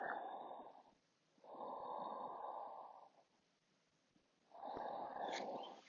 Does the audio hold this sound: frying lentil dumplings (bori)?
no